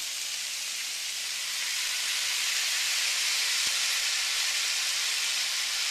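Lemon sautéing in a hot pan with beer chicken, a steady broadband sizzling hiss that swells slightly after a couple of seconds and holds evenly throughout.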